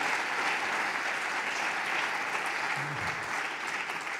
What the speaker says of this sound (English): And big round of applause.